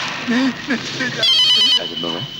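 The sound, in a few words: telephone ringing in a movie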